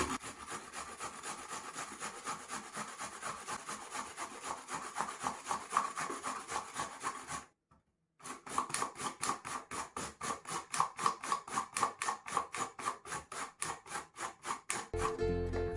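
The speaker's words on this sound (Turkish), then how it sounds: "Ee, şimdi rendeliyorum." Peeled zucchini rubs against the coarse side of a box grater in quick rhythmic rasping strokes, briefly pausing midway before the scraping resumes, close and clear without talking.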